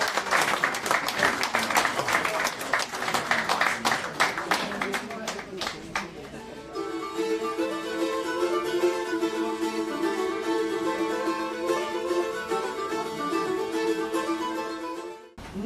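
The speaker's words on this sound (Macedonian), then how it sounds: "Да го поздравиме сладкото изненадување со еден аплауз" An audience at a book promotion event in Veles claps together in a dense burst of applause for several seconds, giving way to music with talk over it.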